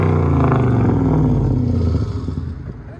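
A 1998 Pontiac Firebird with a 5.7L LS1 V8 and straight-piped dual exhaust revs loud and close, its deep throaty roar holding steady before easing off and settling near the end.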